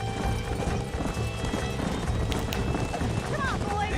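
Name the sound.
horse hooves in the video game Red Dead Redemption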